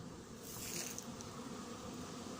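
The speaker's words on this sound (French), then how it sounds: "Devant, il y a un frelon qui vole." A hornet and honeybees fly around a beehive apiary at night, producing a continuous faint buzzing hum with a brief higher whine from a passing insect near the start.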